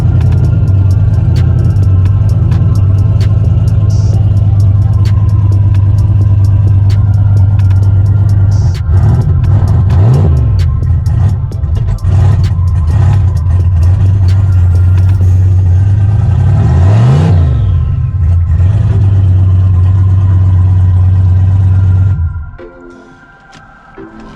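A BMW car engine idling steadily after starting, a loud low rumbling drone with a couple of brief revs and some clatter, running alone before cutting off near the end.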